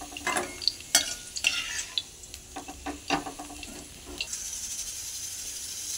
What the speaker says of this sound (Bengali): লাল লাল করে আলু ভাজা হয়ে গেছে।